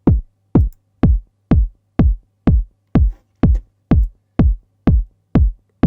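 Unprocessed kick drum sample from a Moog DFAM synthesizer, twelve evenly spaced punchy booming hits with quick pitch drops and short decays, clean and close.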